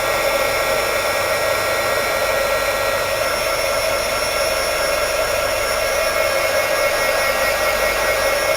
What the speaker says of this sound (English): I'm pretty far up from my card with my heat gun because I don't want that glue to remelt